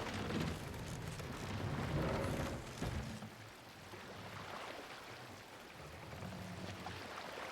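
Grenade going off in Assassin's Creed Valhalla, a muffled boom with a rushing, noisy burst around three seconds amid ongoing low rumble, fading into softer ambient wash.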